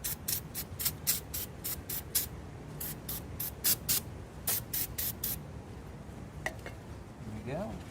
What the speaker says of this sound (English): Hit it with some parts cleaner.